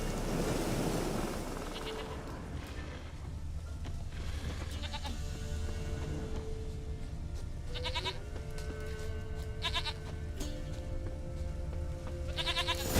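A goat bleats in The Witcher 3, with several short bleats spread across the clip over a low ambient game background of wind or surf.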